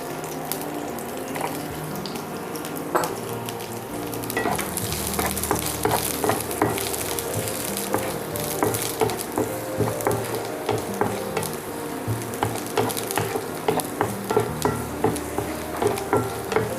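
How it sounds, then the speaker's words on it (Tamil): Garlic fries in a pan while it is stirred until golden brown for idli podi, giving a steady crackling sizzle with rhythmic scraping strokes that grow busier toward the end, close up and without talk. "முதல்ல பூண்டு மட்டும் இதில் சேர்த்து நல்லா ப்ரௌனிஷ் ஆகிற வரைக்கும், கோல்டன் ப்ரௌன் கலர் வர வரைக்கும் நம்ம வறுத்து எடுத்துக்கணும்."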